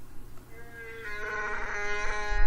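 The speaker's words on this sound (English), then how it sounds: "he just played Chewbacca" A Chewbacca roar from Star Wars, a rising, harmonic, growling howl, plays fairly quietly over a low rumbling background and swells in the final second.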